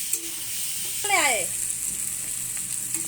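Spices sizzle steadily with taro and potatoes frying in a pan, a close, even crackle with a brief voice-like sweep partway through.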